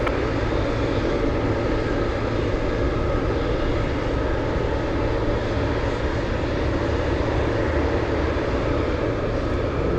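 A cargo jet rolls for takeoff on runway 15 at Anchorage in gusty wind, a loud steady engine roar holding constant throughout with broadband rumble.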